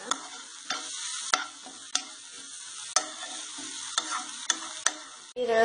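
Greens such as vallarai, coriander and ponnanganni being sautéed in a pan for a keerai chutney, a soft sizzle punctuated by about nine sharp, regular spatula knocks against the pan.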